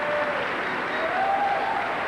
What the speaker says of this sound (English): the crowd here in the center circle once again clapping for respect for both athletes